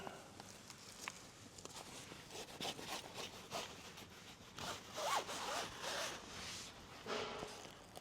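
Quiet, repeated zipper pulls on a tent annexe wall rasp in short bursts, with rustling fabric and handling noises between them, fairly faint.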